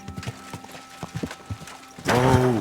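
Horse hooves clip-clop in Kingdom Come: Deliverance II, a steady run of separate close hoof strikes, ending in a loud whinny-like burst.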